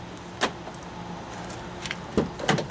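Rear door lock actuator on an MK6 VW Jetta unlocking, heard as a few quiet mechanical clicks and a short whirr near the car against faint background noise.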